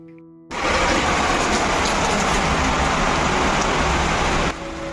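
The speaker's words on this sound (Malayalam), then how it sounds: "നല്ല മഴയുണ്ട്. നല്ല ശക്തിക്ക് പെയ്തുകൊണ്ടിരിക്കുക കേട്ടോ" Heavy rain pours steadily at home, a dense, loud hiss that starts suddenly and holds unbroken for several seconds before easing slightly at the end.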